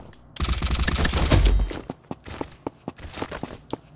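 AK-variant rifle fire in the video game Combat Masters: a loud, fast automatic burst lasting just over a second, followed by scattered sharp clicks and light footsteps.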